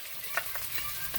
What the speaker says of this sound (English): So this is frying up.